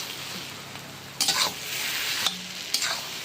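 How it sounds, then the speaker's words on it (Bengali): Mashed potato for chops is stirred in a pan, quiet sizzling under a few distinct scraping spoon strokes that come in short bursts. "আর এদিকে দেখো আমাকে এটা একটু নাড়া দিতে বললো।"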